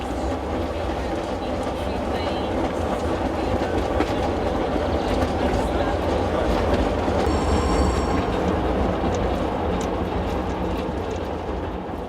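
A train rolls along the track in Slovakia in autumn, near Sedlo Zbojska, with continuous loud rumbling and rhythmic wheel clatter, a brief squeal partway through.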